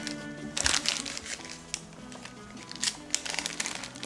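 Wrapping paper being folded around pasteles, crinkling and rustling close by in a few sharp crackling bursts over a soft background.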